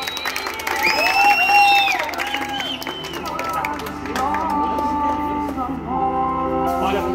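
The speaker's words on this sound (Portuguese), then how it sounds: "Uma salva de palmas." Guests at a surprise birthday celebration for a husband break into applause mixed with cheering and excited voices, with a tonal musical or vocal sound running over the clapping throughout.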